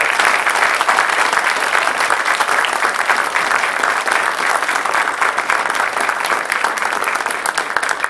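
Loud, steady applause from a large crowd at a board meeting, dense and sustained without a break for several seconds.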